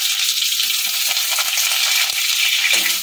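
Loud, steady sizzling of cut potatoes frying in hot oil, a continuous crackling hiss with faint stirring scrapes.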